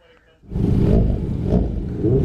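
A touring motorcycle engine revs loud and close, rising abruptly after a brief quiet start and holding a steady, throaty roar with slight surges throughout.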